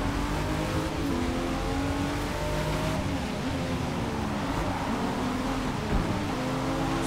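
A BMW Z4 M40i engine accelerating in the Forza Motorsport racing game at Circuit de Barcelona-Catalunya, a steady loud drone with rising and shifting pitch through the gears, heard alone without talk.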